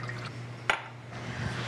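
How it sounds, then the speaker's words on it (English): Warm water pours into a mixer bowl while bread dough is being made, giving a brief splash and clink against the bowl followed by a soft trickle that stands alone. "into your mixer, 1¾ cup of warm water"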